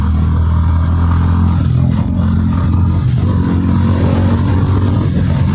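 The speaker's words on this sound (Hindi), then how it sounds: "57 टाइम्स हमने ट्राई करा उसके बाद जाके अब स्टार्ट हो रही है ये।" A Honda H'ness CB350 motorcycle engine runs loud and close after a hard start in heat, holding a steady, rumbling idle with a rough mechanical clatter throughout.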